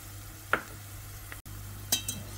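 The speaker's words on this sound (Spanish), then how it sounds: "Y ahora vamos a freír bien la harina" Flour fries with onion in a pan under a low, steady sizzle. A whisk stirs through it with a few distinct scraping strokes, all close and fairly quiet, with a brief dropout partway through.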